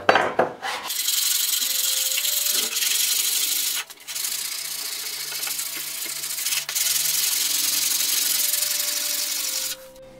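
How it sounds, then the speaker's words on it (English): Steady rasping strokes of sandpaper stapled to a stick, rubbed across a pitted plane blade, running in long sustained passes with brief pauses between them, close and fairly loud with no talk. "it's just a stick that I stapled some sandpaper onto"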